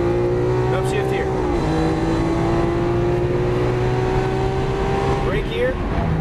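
Lamborghini Aventador LP700-4 accelerating on a track after an upshift, its engine note climbing steadily in a loud, close, continuous drone, with someone talking over it.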